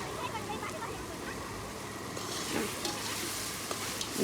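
Low, steady sizzle of ginger and garlic frying in a pot outdoors, with occasional stirring scrapes and a soft outdoor rush in the background.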